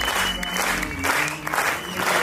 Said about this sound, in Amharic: ሞቅ ባለ ጭብጨባ ባካችሁ